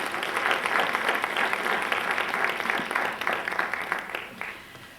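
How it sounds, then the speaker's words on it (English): An audience at an academic presidential lecture gives steady, full applause that tapers off at the end. "Can I get a clap on that"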